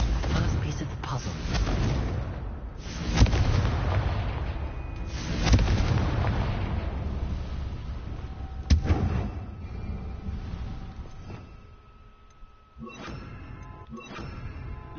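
A Confringo spell blast from Hogwarts Legacy: several loud booming explosions burst out over a rumbling, busy game soundtrack, with talk around them.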